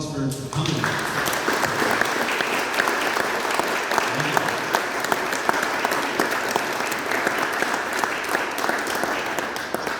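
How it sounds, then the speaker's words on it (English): Steady, dense applause from a sizable audience fills the room throughout, loud and continuous, with a brief voice heard near the start and cheers mixed in. "I give you all a round of applause for coming."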